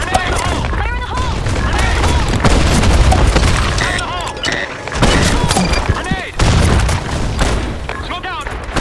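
Booming blasts and bursts of gunfire in the online shooter BlackShot on a sandstorm map, loud repeated heavy thuds mixed with rapid shots and in-game voice callouts.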